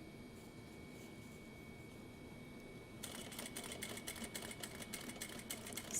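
Sewing machine starts partway through and stitches steadily on a Noodlehead Yarrow pouch, a fairly quiet, rapid mechanical patter running over a faint room hum.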